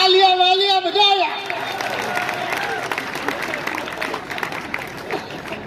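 An audience at a Hindi poetry gathering during a Gangaur festival in Nathdwara breaks into steady applause right after a voice finishes speaking, the clapping continuing as a dense, moderately loud patter.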